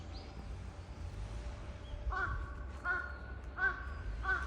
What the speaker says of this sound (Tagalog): Sensya na po kay uwak. Kumakanta-kanta siya.